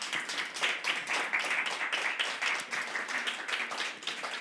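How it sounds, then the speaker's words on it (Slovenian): At a slam poetry evening of the Ljubljana poetry festival, an audience claps steadily and fairly quietly, with distinct clap bursts pulsing throughout. "En velik aplavz pa še Mateji,"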